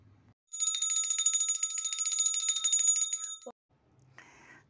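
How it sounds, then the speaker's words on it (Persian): A small hand bell, rung to cleanse tarot cards, jingles steadily for about three seconds with a bright metallic shimmer. It stops abruptly before a brief soft rustle. "من به وسیله زنگوله و صدایی که ایجاد میکنم میخوام کارت ها رو پاکسازی کنم"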